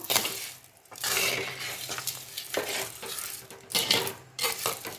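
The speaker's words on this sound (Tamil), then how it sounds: "நல்லா கிளறி விட்டுருங்க அடி பிடிக்காமல் கிளறி விட்டுக்கிட்டே இருங்க" A spoon stirs kalkandu rice, sweet rice cooked with rock sugar, in a pot, giving repeated close scraping and stirring strokes with bursts of soft sizzle and a few light clinks, with no talking.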